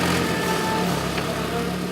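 A car engine is driven by a Kakeru-kun engine starter during a standalone engine quality check, running as a steady, loud mid-pitched drone that does not let up.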